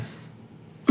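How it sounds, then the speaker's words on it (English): A single short, loud cough bursts out near the end after a quiet stretch, following a sip of wine. "I literally have to cough every time I sip this."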